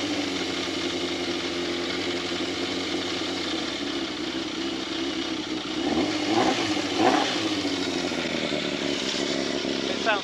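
Yamaha FZR 600 motorcycle fitted with a Micron exhaust can, engine running steadily then revving up in two quick rises near the end, loud and close.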